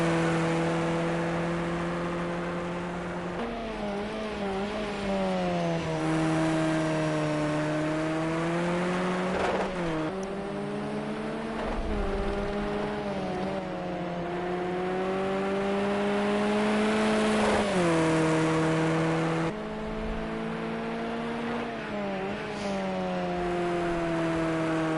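A KTM race car engine heard onboard during an endurance race in the United Kingdom drones steadily and loudly, its pitch rising through the gears with sharp drops at each shift and lift, over about twenty-five seconds.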